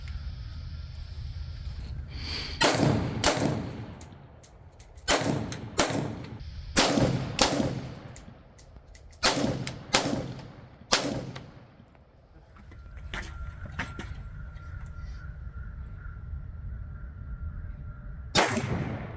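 Bushmaster M17S bullpup rifle fired outdoors: more than a dozen sharp, loud gunshots come in quick pairs and clusters with short gaps between, then one final isolated shot after a longer pause.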